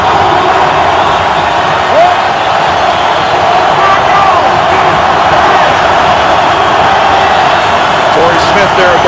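A dense roar from a packed stadium crowd fills an NFL divisional playoff game between the Ravens and Broncos, a loud, sustained wall of noise with swelling shouts, under continuous broadcast commentary.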